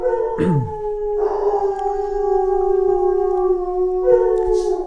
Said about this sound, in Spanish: Perdón por el ruido, mis perros se adelantaron.